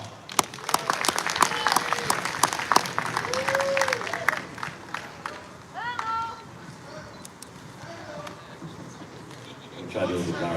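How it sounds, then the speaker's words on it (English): An audience at a boxing press conference breaks into scattered applause and cheers, with claps and voices building, thinning out, then rising again toward the end. "Y'all give a round of applause."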